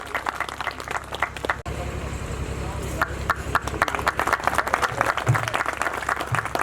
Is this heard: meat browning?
no